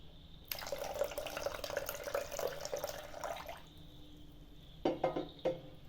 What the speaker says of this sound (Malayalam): ഇനി നമുക്ക് ഇതിനകത്ത് ഒരു ലേശം പാലൊഴിച്ച് കൊടുക്കാം.